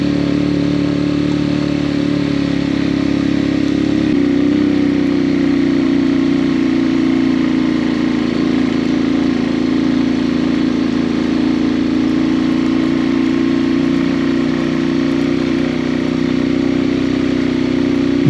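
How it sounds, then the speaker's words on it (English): A motorcycle engine labours uphill on a steep mountain road in Benguet, a steady droning hum that holds for the whole stretch, loud and close with no voices. "My motorbike is suffering a lot because I didn't imagine this kind of higher level"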